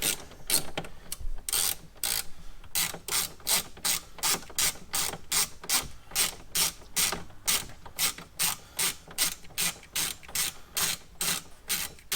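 Repeated ratchet clicking from removing four T20 Torx screws in a Porsche 981 Boxster/Cayman dashboard, a steady run of sharp, close pawl clicks in quick bursts with no talking.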